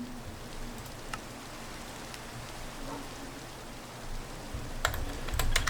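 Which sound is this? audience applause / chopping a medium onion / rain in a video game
rain in a video game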